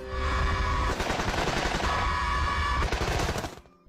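Heavy machine guns fire in sustained, dense bursts of rapid shots, loud and close, rattling continuously for over three seconds before cutting off into a short fading tail; no one speaks.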